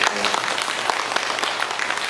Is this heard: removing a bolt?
no